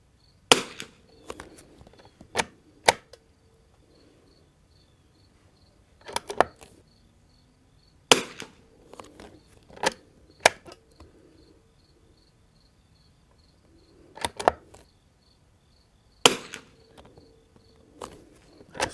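Sharp, loud reports from a Winchester 52 rifle come in scattered groups of close cracks separated by quiet gaps, with a faint steady insect-like chirping in the background.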